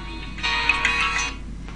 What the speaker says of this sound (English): Phone fucking going off here.